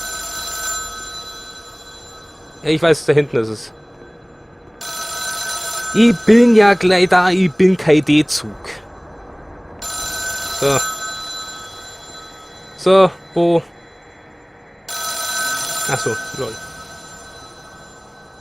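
An old telephone bell rings in repeated bursts in the horror game The Town of Light, loud and insistent, separated by pauses, with someone talking over and between the rings.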